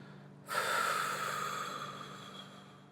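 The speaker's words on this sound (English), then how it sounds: "You exhale first" A single long breath blown out, soft and airy, starting suddenly and slowly fading over a couple of seconds.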